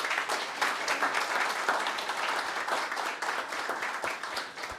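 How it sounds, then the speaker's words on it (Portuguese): Audience applause at a public health-department hearing in Brazil, a steady wash of many hands clapping with a few sharper claps standing out, continuous and moderately loud with no speech over it. "uma grande salva de palmas."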